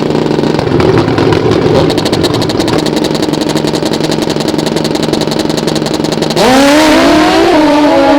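Pro Stock drag racing motorcycles at an AMA Prostar event scream down the strip, a loud sustained high-revving engine roar with a sharp shift in pitch near the end as the bikes change gear.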